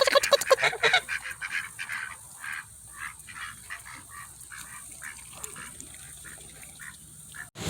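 Geese honk repeatedly with ducks quacking in the rain, a rapid burst of loud calls at the start followed by scattered, fainter honks over a soft rainy background.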